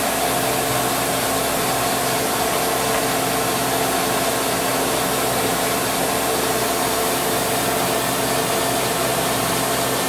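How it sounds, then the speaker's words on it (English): A Rayjet laser engraver runs through an engraving job with its exhaust on, giving a loud, constant broadband whoosh and hum that holds steady throughout with no talk. "There you see the laser moving back and forth, engraving whatever I wrote up."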